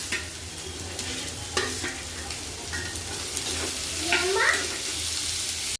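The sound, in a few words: lightly cooking vegetables for manchow soup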